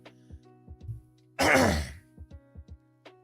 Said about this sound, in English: Sorry if you guys can hear me coughing.